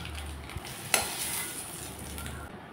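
Lightly fried eggs being stirred in a pan of hot oil, a soft continuous sizzle with a couple of spatula scrapes and taps, heard close.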